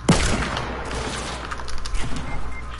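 Gunfire in a game firefight: one sharp loud shot at the start, then a spread of quieter, scattered pops and cracks trailing off over a low rumbling bed.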